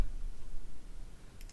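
Single computer mouse click, quiet and close against a faint background hum, with a couple of soft ticks near the end.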